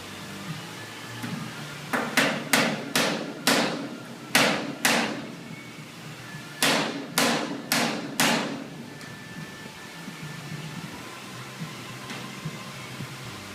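Hammer blows driving a rivet into a diamond plate car trailer, two quick bursts of sharp, ringing strikes, about six then four, close and loud with quiet pauses between.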